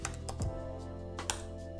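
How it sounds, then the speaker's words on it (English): Computer keyboard keys tapped while entering a password at a login prompt, a few soft clicks spread across the moment, quiet and close with no talking. "So I'll go ahead and type the password."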